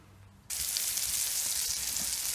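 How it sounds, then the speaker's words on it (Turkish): Loud, steady sizzling of anchovies frying in a pan on a wood-burning kitchen stove, starting abruptly after a brief quiet moment and continuing evenly without talk. "Ondan sonra kızartmaya başlayacağım."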